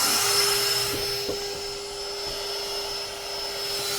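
A HooSeen cordless air broom leaf blower runs steadily at close range, a loud continuous whooshing roar with a high motor whine that holds throughout before cutting off at the end.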